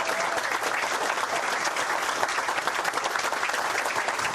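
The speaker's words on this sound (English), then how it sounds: "That was definitely polite applause." Polite audience applause during a live sports talk show, a steady wash of many hands clapping at moderate volume, sustained evenly without voices on top.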